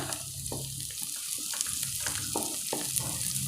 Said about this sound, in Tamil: வெங்காயத்தை நல்லா வதக்கிக்கோங்க கூடவே நாம் கருவேப்பிலை சேர்த்துடலாம்